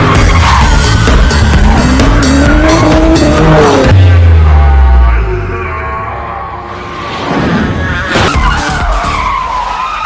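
Tires skid and squeal loudly during a car chase in a film, with repeated screeching bursts and engine roar, then a quieter stretch before another skid near the end.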